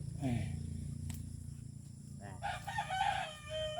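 A neighbour's rooster crows loudly nearby, followed by a few softer clucks and bird calls over a low rumbling background.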